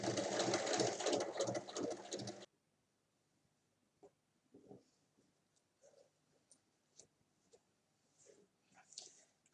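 Sewing machine stitching fabric pieces together for a drawstring bag, a loud fast mechanical whir for about two seconds, then stopping, followed by faint scattered handling noises.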